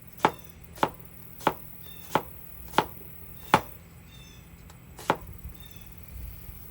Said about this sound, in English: if you want to do like julienne onions, we just slice them up